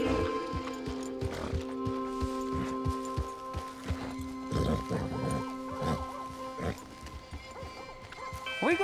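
Horse hooves clip-clopping at a steady walking rhythm in the Red Dead Redemption II video game, close and clear, with game music tones and brief voices over them.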